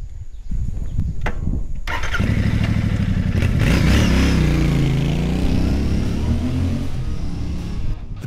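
Royal Enfield Bear 650 motorcycle starting up and revving, a few clicks and short bursts giving way to a loud, throbbing engine note that rises and falls as it accelerates close by.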